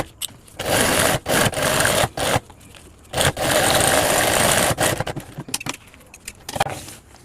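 A sewing machine sews a zipper onto a cloth school bag in short, close bursts, starting and stopping repeatedly with brief pauses between runs.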